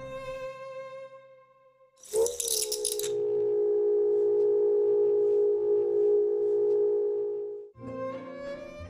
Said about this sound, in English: They each have a hollow cylindrical body with a narrow slit cut in the side. This causes them to make a strange sound as they spin.